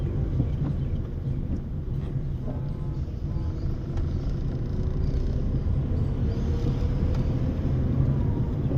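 A car drives steadily in third gear, its low engine drone and road rumble close and continuous, with some wind noise and no talk.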